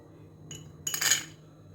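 A small spoon clinks against a bowl while scooping ground coffee, one faint tap followed by a brighter, slightly longer metallic clink, close and otherwise quiet.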